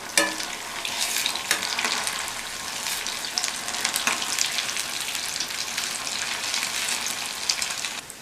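Leftover rice bondas made with gram flour and semolina fry in hot oil as they are turned one by one, giving a dense continuous sizzle broken by sharp crackles and the clink of a utensil.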